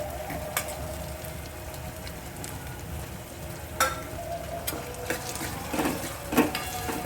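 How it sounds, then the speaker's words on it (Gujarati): Tomatoes fry in a pan of tempered oil for dal fry, making a quiet, continuous sizzle broken by a few sharp pops and clinks, with no talking. "હવે આપણે આની અંદર ટામેટાં એડ કરી દઈશું."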